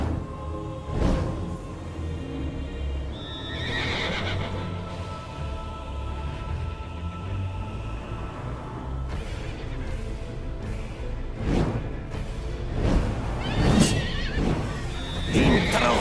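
Repeated winged horse neighs and whinnies in the video game Black Ops 4 Zombies, Ancient Evil map, ring out over pounding galloping hooves, with crashing bursts and game-like effects layered in.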